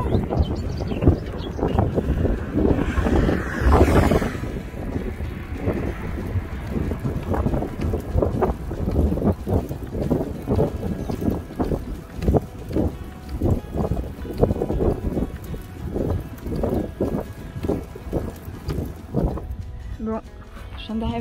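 Heavy gusting wind buffets the microphone, roaring and rumbling in uneven surges while a cyclist rides through flat countryside in the Netherlands, with someone talking over the noise.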